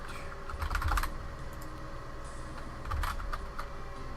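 Quick computer mouse clicks while playing Old School RuneScape, arriving in two short clustered bursts over a steady low background hum, with no talking.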